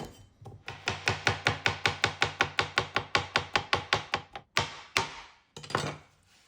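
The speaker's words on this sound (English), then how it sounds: "The red onions I'm going in small, thin slivers" A knife slices red onions into thin slivers on a cutting board: about twenty quick, evenly spaced chops close up, then a few slower, heavier strokes, with no voices.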